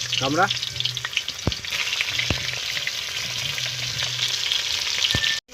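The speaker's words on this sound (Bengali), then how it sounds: "ফুলকপিগুলো ভেজে নেবো।" Cauliflower florets frying in hot oil in a kadai, a steady dense sizzle throughout with a few sharp spatter pops and clinks of stirring, no voices.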